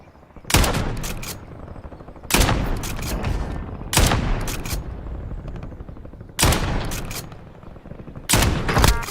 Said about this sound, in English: I'm having a hard time shooting these guys.